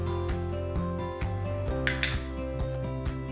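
A spoon clinking and scraping against a mug while mixing mug pizza batter with olive oil, quick repeated taps over a steady tonal hum, close and clear with no voices.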